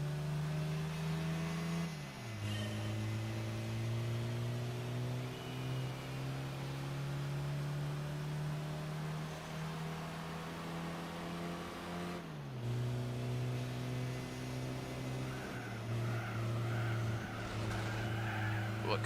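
A Suzuki Concept Eve race car in Gran Turismo 4 accelerates hard on nitrous, its loud, steady engine drone climbing in pitch and then dropping sharply at several gear shifts across a long straight, with no talk.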